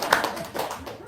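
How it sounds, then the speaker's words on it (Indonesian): An audience claps briefly at a spoken religious gathering: a short, fairly quiet burst of hand claps with a few uneven taps, lasting only about a second. "tepuk tangan dong"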